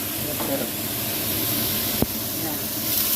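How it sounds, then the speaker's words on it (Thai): Pounded chili and garlic stir-fry in a pan for a spicy bamboo-shoot and pork dish, giving a loud, continuous hissing sizzle with one sharp click partway through. "ผัดพริกให้หอมก่อนค่ะพี่น้องค่ะพริกนี่ตำใส่กระเทียมเลยย"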